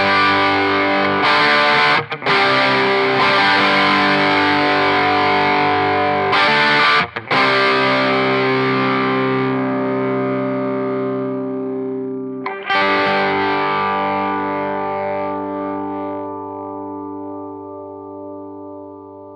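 Electric guitar running through a Scream 808 overdrive into a Line 6 HX Effects Vermin distortion: heavy saturated chords strummed loudly, a couple of quick chord changes, then a long sustained chord slowly fading away.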